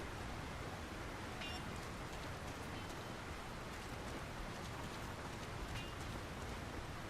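Steady rain pours down on a town in the video game The Lord of the Rings: War in the North, a dense, even hiss with no break and occasional faint drip ticks, close and moderately loud throughout.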